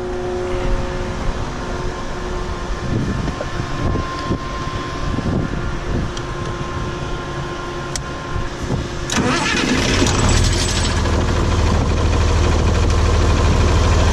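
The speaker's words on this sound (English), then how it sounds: "Get this tractor fired up." Farm tractor at harvest time: cranking and rough mechanical rattling for several seconds, then the engine catches and settles into a loud, steady low rumbling idle close by, with wind noise.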